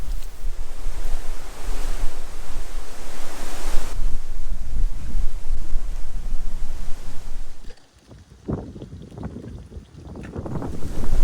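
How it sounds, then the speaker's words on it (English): Strong gusting wind roars against the microphone with rushing rain-like noise during wet, windy morning weather in the Australian outback, then briefly drops before picking back up. "We've got wet and windy weather this morning, blowing everything around"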